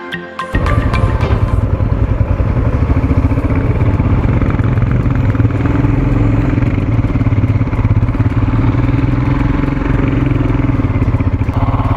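Several motorcycles idle together at a roadside viewpoint in Ladakh near Chang La pass, producing a loud, steady low engine rumble that starts after a brief clatter and runs unbroken and close throughout.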